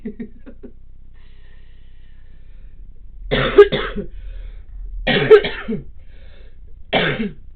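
Three separate bursts of harsh coughing, each a short cluster of hacks, spaced a second or so apart after a quiet stretch with faint low murmuring at the start.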